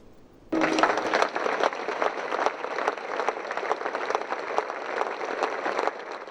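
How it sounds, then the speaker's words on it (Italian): A crowd applauds at evening commemoration for four young people in a town square, with balloons being released; dense, sustained clapping starts abruptly after a brief quiet and carries on steadily, moderately near and loud. "Un lungo applauso ha accompagnato il lancio dei palloncini"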